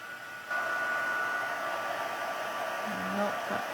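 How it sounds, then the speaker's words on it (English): A craft heat tool warms embossing powder on a stamped paper project, giving a steady, close, loud blowing whoosh like a hair dryer that starts abruptly and holds evenly throughout. "Heat up the heat tool."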